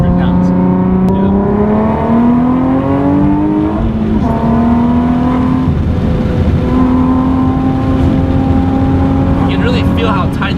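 A 400 hp Nissan 370Z Nismo roars loud and close from inside the cabin, its engine note climbing through the gears with rising revs and brief shifts, while occupants talk over it.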